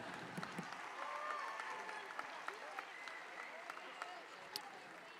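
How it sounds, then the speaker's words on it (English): Faint crowd applause fills an arena at a 4-H/FFA livestock championship drive, a steady wash of distant clapping with a few louder claps and background chatter throughout. "let's give our exhibitors one more big round of applause for being out here with us tonight"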